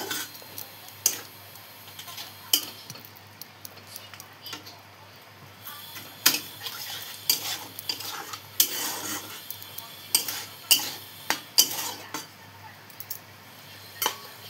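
Eggplant and potatoes are stirred and mixed in a pan, irregular scraping and clinking of a utensil against metal over a faint sizzle, with sharp taps scattered throughout.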